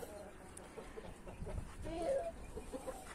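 Chickens and a rooster cluck softly and intermittently in a farmyard, a faint, close sound with a few brief sharper calls.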